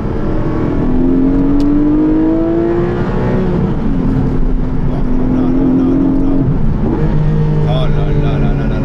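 A Porsche 718 Boxster GTS 4.0 flat-six revs loudly, rising and falling through several gear pulls with smooth climbing engine tones, while a man exclaims over it.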